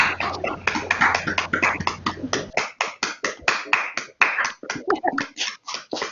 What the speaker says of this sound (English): just to show Ned a big round of applause and our appreciation.